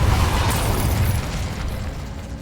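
Incendio and Depulso spell effects in the video game Hogwarts Legacy, a loud booming fiery blast with rumbling low end that trails off over a couple of seconds, no speech.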